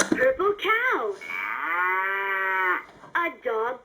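A LeapFrog farm animal toy plays a cow moo, a loud, close electronic lowing sustained for over a second, framed by short toy sound effects before and after.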